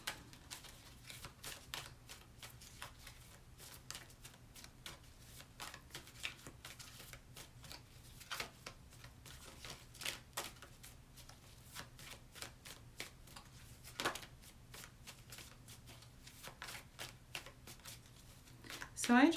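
Tarot cards are shuffled over and over in soft, quick riffling bursts, close and quiet, continuing steadily with no talking.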